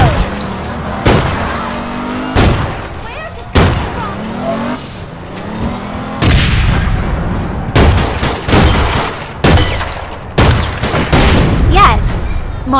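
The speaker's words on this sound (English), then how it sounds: "Yes, more explosions." Explosions and gunfire in the online shooter game APB: Reloaded, loud sharp bursts and booming blasts at irregular intervals over engine and vehicle noise, with fast volleys clustering toward the end.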